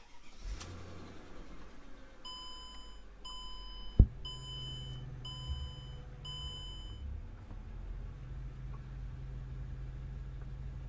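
A 2004 Mercedes E500 V8 wagon with 324,000 miles cranks and fires with a sharp start, then settles into a steady low idle while a series of dashboard warning chimes beep repeatedly over it.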